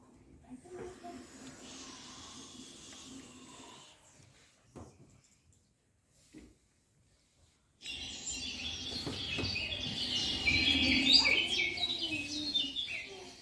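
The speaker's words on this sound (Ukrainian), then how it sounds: "Чуєте, як пташечки співають?" Birds chirp and twitter in a busy outdoor forest chorus, faint at first, then a short near-silent stretch before the birdsong returns louder and denser.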